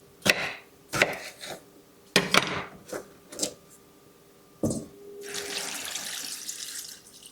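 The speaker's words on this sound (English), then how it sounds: "put water up until where the potatoes stop" Tap water runs into a bowl of cut potato pieces in a kitchen sink, a steady rushing stream at the end of the clip after several sharp knocks and clatters of bowl and utensils nearby.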